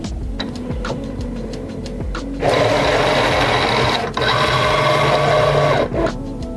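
A Momento craft cutting machine draws in its cutting mat with a close mechanical whir and rapid ticking, the motor rising in pitch and pausing briefly as the mat feeds through.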